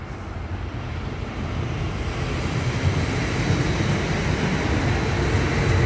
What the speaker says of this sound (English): It's got a train going past.